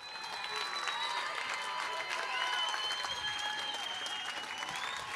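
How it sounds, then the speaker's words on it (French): A crowd applauds steadily and loudly at the finish of the 24-hour, 170 km Urban Trail race in Chaumont, honouring seven finishers who cross together; sustained dense clapping runs throughout with bright whistles and cheers above it. "Allez, on les applaudit bien fort."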